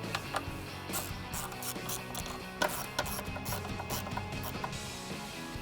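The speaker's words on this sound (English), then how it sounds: "Then I have my 8mm with my 1/4" drive ratchet. Tighten the top ones up." Top bolts on a 2005-2010 Mustang GT twin 62mm throttle body being tightened with a 1/4 inch drive ratchet and 8mm socket, rapid close clicking in short bursts with small clanks between them.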